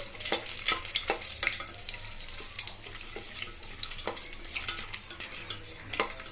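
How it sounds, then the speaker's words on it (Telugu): Cashews frying in a pan with curry leaves, stirred often, giving a steady crackling sizzle broken by repeated sharp scraping and clattering from the spoon, close and moderately loud with no talking. "జీడిపప్పు దోరగా వేయించుకోవాలి."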